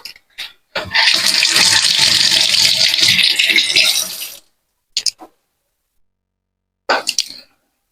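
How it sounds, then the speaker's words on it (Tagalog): An egg dropped into a hot pan for a home breakfast gives a loud, broad sizzle that runs steadily for about four seconds, then cuts off, followed by a couple of short clatters and a brief burst near the end. "Lagyan natin ng isang itlog."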